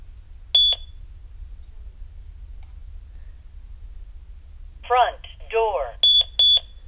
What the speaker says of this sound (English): So you heard the one beep